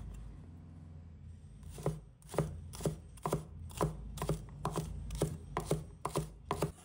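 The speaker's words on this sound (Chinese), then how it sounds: "几个蒜白，切成小粒。" A knife chops garlic whites into small pieces on a board, steady evenly spaced thuds about two per second, close and crisp, alone without talk.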